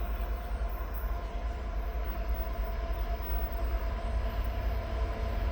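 A CSX manifest freight train led by EMD locomotives rolls past close by, a continuous heavy rumble of wheels and railcars with no talking.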